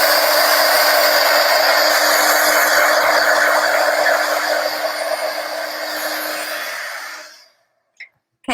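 Hair dryer blowing steadily up close to dry chalk paste on handmade Christmas farmhouse decor, a continuous whooshing hum for several seconds before switching off into quiet.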